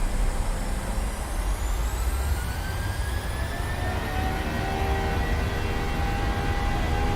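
Jet engines of a PMDG 737-700 in Microsoft Flight Simulator spooling up to takeoff power, a loud steady roar with rising whining tones climbing and holding throughout.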